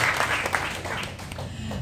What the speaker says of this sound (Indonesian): Berikan tepuk tangan Bapak Ibu.